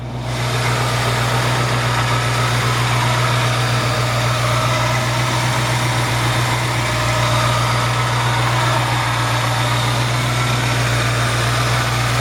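A 1965 Ford F100 pickup truck engine idles steadily and smoothly at close range, a constant low rumble with a faint hum, no voices throughout.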